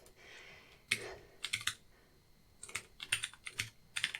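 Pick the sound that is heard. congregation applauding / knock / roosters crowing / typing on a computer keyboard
typing on a computer keyboard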